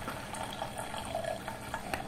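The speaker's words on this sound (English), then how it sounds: "we are now seeing some bubbly water, and the water is being sucked from this housing" Water bubbles and gurgles softly as it is sucked through a hollowfiber filter housing, a faint continuous trickling with small bursts of bubbles.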